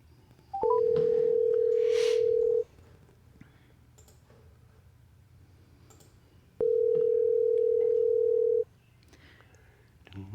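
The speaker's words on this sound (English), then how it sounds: "Now we're going to dial him in here." Telephone call being placed to a podcast guest: short dialing tones, then two long steady ringback tones separated by a few seconds of quiet, clear and close with no talking.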